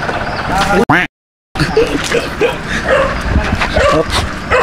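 A dog at a rural farm in Isabela barks and yips nearby in short bursts, with people talking close by and a brief dropout in the middle.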